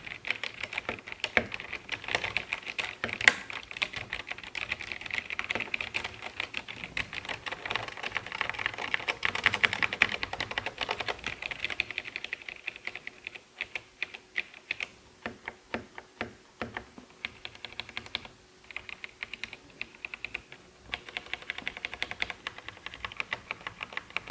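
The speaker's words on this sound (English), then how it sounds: "give you a typing test so you can hear what the keys sound like" Steady typing on a Royal Kludge RK71 mechanical keyboard, a close, continuous patter of clicky keystrokes that keeps running with brief lulls and uneven bursts throughout, no talking.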